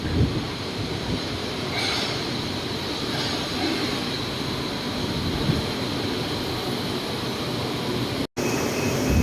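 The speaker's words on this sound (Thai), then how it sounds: "ขบวนรถก็ เข้าสถานีพอดีนะฮะ" A Bangkok Yellow Line monorail train pulls into an elevated station at Lat Phrao, a steady broad rumble and rush of the approaching train with wind noise, filling the scene without a break.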